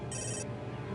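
A telephone rings once in a short electronic burst, bright and fairly clear over a low background hum, then stops.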